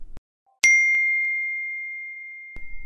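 A single bright notification ding as a phone receives a confirmation SMS, struck once and left ringing in a long, clean, slowly fading tone, heard alone in a quiet room.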